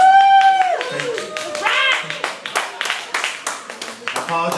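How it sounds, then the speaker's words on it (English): Scattered hand claps from a small audience ring out sharply, irregular and fairly close, following a sustained tonal voice or note at the start. "Applause."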